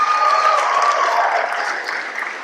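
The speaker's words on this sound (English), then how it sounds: "Round of applause, please" Dense, continuous applause fills a room at an Australian Embassy event, loud and close for the whole stretch, a steady wash of many hands clapping with no talking.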